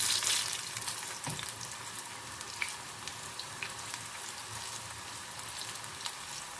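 Eggplant slices fry in oil in a pan with a constant bubbling sizzle, broken by occasional sharp spits and pops. The sound is close and steady throughout, with no voices.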